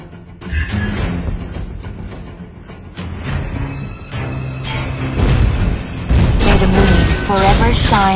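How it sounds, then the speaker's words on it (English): Video game turret destruction, a series of loud booming explosions and bursts stacked over game music and effects, building toward a heavier blast near the end while an announcer voice speaks. "You destroy the turret!"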